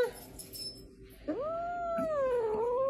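A cat, just taken out of a refrigerator, lets out a long, drawn-out complaining meow that rises and bends in pitch, loud and close, after a quieter stretch of faint household noise.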